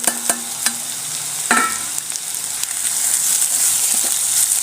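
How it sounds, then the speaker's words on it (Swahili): Tripe (matumbo) dropped into a pan with onions and green peppers, frying in a steady close hiss with a few clattering knocks early on, the sizzle swelling and holding loud throughout. "So our next step is to add in our matumbos."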